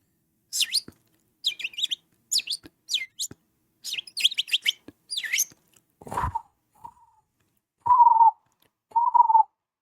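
A person imitates bird calls with a rapid series of high chirps and tweets, then a few lower sustained whistles, close and fairly loud.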